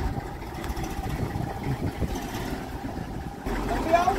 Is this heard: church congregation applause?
no